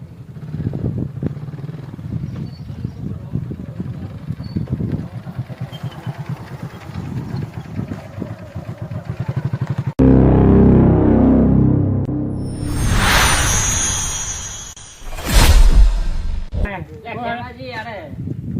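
A motorbike is ridden up in a rural village setting, its engine running loud and close with revving swells and a sharp rise near the end, following stretches of people talking.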